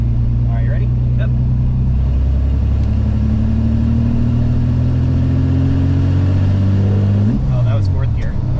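Turbocharged Buick 3800 V6 car accelerating hard, a loud engine drone climbing steadily in pitch for about seven seconds before dropping sharply on a shift, with voices talking over it.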